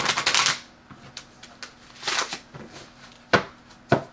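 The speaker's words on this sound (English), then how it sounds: "I'm just going to shuffle one more time and get one more card" Tarot cards are shuffled by hand in quick riffling bursts with pauses between, then two sharp taps as the deck is squared, close and moderately quiet.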